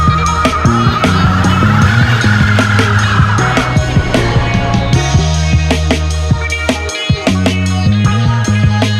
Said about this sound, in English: I think it'll do a burnout if I power brake it